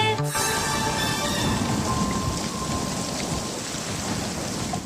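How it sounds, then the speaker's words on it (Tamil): Steady heavy rain pours down with thunder rumbling throughout a storm scene in a Tamil cartoon song for babies. It is loud and continuous, with a brief musical tone at the very start and no voices. "மழையும் காற்றும் சேர்ந்து வந்துருச்சு."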